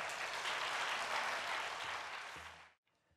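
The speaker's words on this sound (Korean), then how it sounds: "박수로 환영해 주시길 바랍니다." A church congregation applauds to welcome a guest speaker at a midweek testimony service, a dense, even wash of many hands that holds strong for nearly three seconds, then fades and cuts to quiet.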